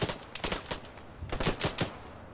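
Rapid video game gunfire, two clustered bursts of sharp shots in quick rhythm separated by a short pause, fairly close and alone.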